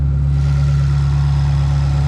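A 2022 Ferrari Roma's twin-turbo V8 at high idle with the hood open, a loud, steady, close droning hum with a strong low rumble that holds even and unbroken throughout.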